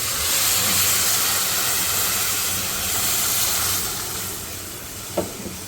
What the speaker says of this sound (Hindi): अब हम इसमें डालेंगे 1 लीटर के बराबर दूध।